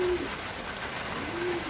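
Racing pigeons in a rainy derby sprint race give two soft, low coos about a second apart, heard close against a steady outdoor background hiss.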